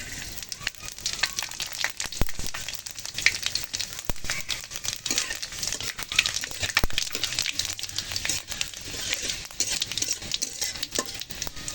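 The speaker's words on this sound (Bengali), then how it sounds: "তেল গরম হয়ে এসেছে এখন দিয়ে দিচ্ছি পাঁচ ফোড়ন" Panch phoron whole spices crackling and sizzling in hot oil for a green mango pickle, a steady bright frying hiss with scattered sharp pops and some stirring scrapes, close and continuous without talk.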